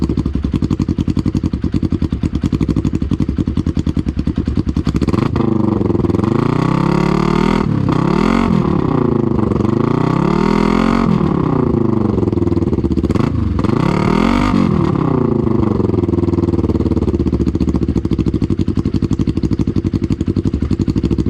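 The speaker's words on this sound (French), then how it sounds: "Maintenant, on va allumer la moto en échappement libre." Motorcycle engine running with a free, open exhaust and no silencer, a loud close idle that rises into several revving bursts in the middle before settling back to a rough steady rumble.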